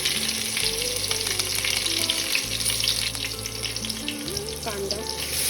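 Cumin and chili fry in a pan with a loud, continuous crackling sizzle, close up, with occasional stirring and no voices.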